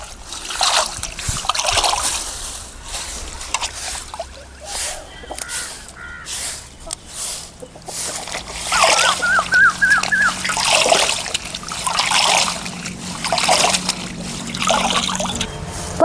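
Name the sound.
rinsing drumstick leaves in water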